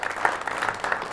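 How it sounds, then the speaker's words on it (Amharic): Brief applause from a studio audience for a contestant on a quiz show, a short burst of clapping lasting about a second. "አጨብጭቡላት"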